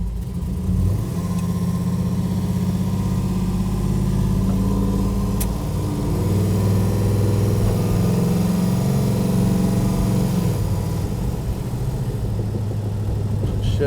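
A 1967 Plymouth GTX with a 440 V8 and 727 automatic transmission drives along, its deep engine rumble steady and loud, rising and settling through gear changes, with someone talking over it now and then.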